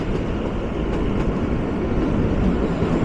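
The Kalka–Shimla toy train runs along its mountain line below a highway, giving a steady, dense rumble of moving carriages that stays even and continuous throughout.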